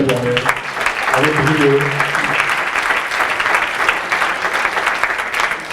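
Steady applause from a large crowd at a forum on gender equality, loud and sustained throughout, with a French-speaking voice briefly over the clapping at the start.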